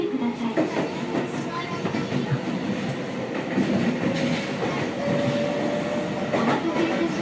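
Seibu 6000 series train with Hitachi GTO inverter control, set 6154F, running between Hibarigaoka and Tamagawa, heard from inside the car: a steady rumbling roll with a faint rising motor whine and occasional rail joint clicks, loud and continuous.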